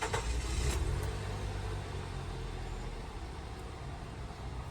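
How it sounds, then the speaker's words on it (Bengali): A used car's engine runs at idle, a steady close rumble with a brief rev near the start, then a continuous even drone with no voices. "তো দেখেন আমি গাড়িটা স্টার্ট দিলাম"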